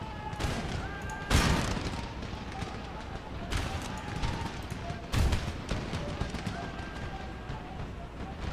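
Cannon and musket fire in an Empire: Total War battle, several heavy booming discharges standing out among a steady crackle of scattered musket shots, with a voice talking underneath.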